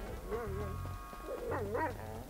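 Chop the dog in GTA V whines and whimpers in wavering, pitched cries, close up, while a low drone and other tones play underneath.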